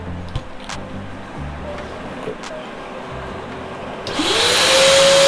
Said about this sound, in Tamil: இதை வந்து இப்போ வேக்யூம் கிளீனரில் வந்து க்ளீன் பண்ணி காட்டுறேன்